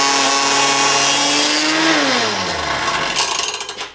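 A motor-driven crystal-slapping machine runs with a loud mechanical whine and rattle, its pitch rising steadily, then winding down into uneven clattering as it slows; the motor has come loose from its mounts.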